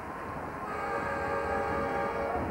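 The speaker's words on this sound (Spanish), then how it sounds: "Suena la sirena, suena la bocina." A sustained buzzer horn blares at a 1996-97 Liga ACB basketball game between Xacobeo Ourense and FC Barcelona in Ourense, a steady tonal blast held for a couple of seconds over arena crowd noise.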